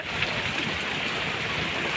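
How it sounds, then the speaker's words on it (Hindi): A continuous rushing wash of rainwater flows steadily after heavy rain, a broad even roar with no pauses or voices. "इधर भाग रहा है पानी"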